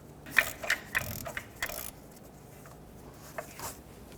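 A ratchet clicking in several quick bursts while a crankshaft position sensor bracket is bolted up on a 2003-2008 Toyota Corolla, close and fairly faint, then going quiet.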